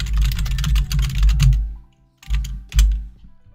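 Computer keyboard typing while a cosplayer media kit document is written, fast continuous key clatter for about a second and a half, a pause, then two short bursts of keystrokes close and clear.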